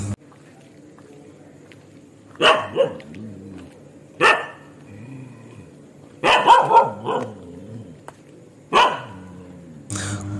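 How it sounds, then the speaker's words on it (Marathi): Several dogs bark at night in a Konkan village, short bursts of barking spaced through the quiet, some bouts close with multiple overlapping barks, others single yaps, over a low steady background hum. "कुत्रे आरडतात, कोणतरी परड्यात येईल असताला."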